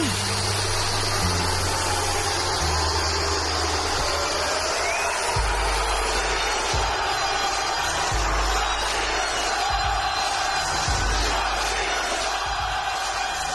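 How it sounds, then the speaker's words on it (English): A large wrestling crowd boos John Cena, roaring and jeering continuously, a dense wash of voices with deep low rumbles and thumps throughout, loud and unbroken. "Listen to those boos."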